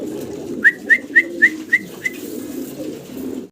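A pair of American fantail pigeons at a pigeon farm give a quick run of six bright, evenly spaced coos, close and clear over a low background murmur.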